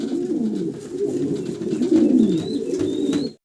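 A pair of large fancy pigeons in a loft coo continuously and up close, with a soft, rolling, low-pitched murmur that rises and falls and a faint high chirp now and then, without any talking.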